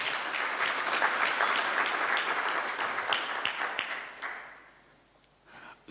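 Audience applause at a Kingdom Sacco annual delegates meeting, a steady crowd of clapping hands that holds for several seconds, then thins and fades out near the end.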